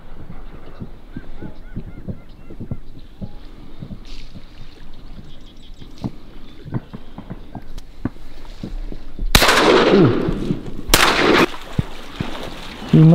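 Two sharp, loud shotgun blasts firing bismuth shot during a marsh duck hunt ring out near the end, preceded by ducks quacking and geese honking close by over quiet wetland ambience.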